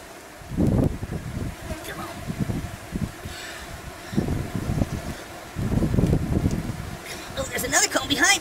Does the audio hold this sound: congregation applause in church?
no